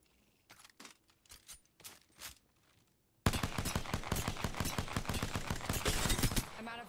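Pistol fire in Apex Legends: a few scattered single shots, then a dense, rapid volley of close, loud cracks that keeps going for about three seconds before breaking off.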